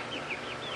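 Chickens kept in a hot farm building cluck softly nearby, making a brief, faint burst of bird calls over steady background noise.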